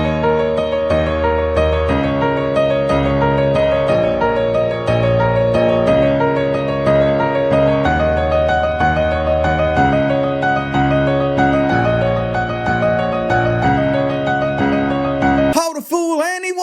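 Piano plays a repeating jazzy pattern on only the black keys, with a bass line moving in steady blocks, sustained and full, ending with a brief bright flourish.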